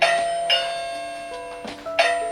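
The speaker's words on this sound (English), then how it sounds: "I'll ring the doorbell." A newly installed home doorbell chimes several times in quick succession, bright ringing tones with lingering decay, close and clear with no talk.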